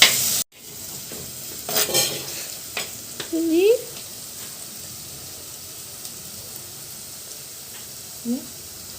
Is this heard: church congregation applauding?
no